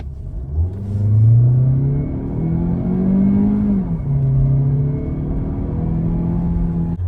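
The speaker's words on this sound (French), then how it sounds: "Je vais mettre le mode sport. Je vais vous montrer ça. On va faire une petite accélération en étant monté." A naturally aspirated Peugeot in sport mode with an automatic gearbox accelerates hard from inside the cabin, engine revs climbing in a droning surge, easing briefly at a gear change, then pulling again as a steady loud rumble.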